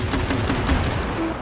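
Several guns fire together in the VR shooting game H3VR, a rapid run of sharp repeated shots at moderate loudness.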